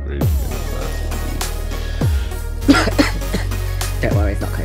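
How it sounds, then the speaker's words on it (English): A person gives several harsh, throaty coughs in a short burst, close to the microphone, with a low background hum. "It's just a morning cough."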